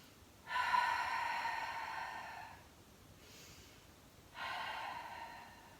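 Two strong, heavy exhalations during an abdominal workout, one long forceful breath at the start and another near the end, close and loud with a quieter breath between.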